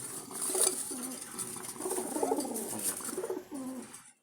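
Jalali pigeons coo in repeated soft, throaty phrases, several birds calling close by with a steady background hiss and no talking.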